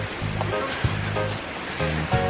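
Nojoqui Falls, swollen after several days of rain, pours with a steady, dense rush of water that stays loud and even throughout, with no voices.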